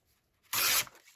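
Paper being cut out by hand for a collage weekly planner, a single close, loud scissor-and-paper rasp lasting about a quarter second amid otherwise quiet surroundings.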